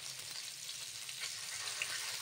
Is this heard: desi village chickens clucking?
no